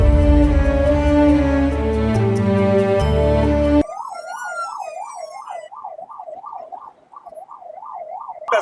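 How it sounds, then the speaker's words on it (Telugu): An ambulance races to a case through crowded Karimnagar street traffic, its wailing siren rising and falling loudly and steadily for the second half, after a dense burst of other loud sound. "ఇంత సైరన్ వేసినా కూడా వాళ్ళు జరగట్లేదండి"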